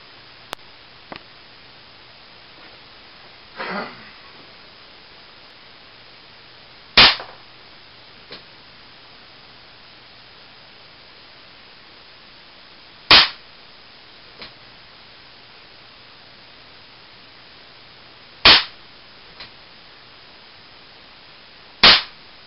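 Four sharp, loud pops from a Dan Wesson 8-inch CO2 BB revolver pistol ring out several seconds apart, each followed by a faint tick of the BB striking, over quiet background hiss.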